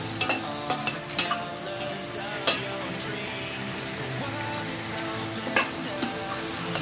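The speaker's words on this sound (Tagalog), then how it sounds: "Prito na konti. Gigita na gigita." Food frying in a pan with hot oil, a steady close sizzle broken by sharp crackles and pops, no talking.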